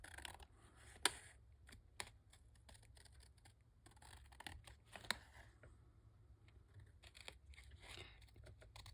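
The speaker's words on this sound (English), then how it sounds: "So I'm going to cut those out." Scissors snipping out small pieces of glued-down paper at a craft table, giving a few sharp, close snips and clicks over light rustling of paper, with no talking.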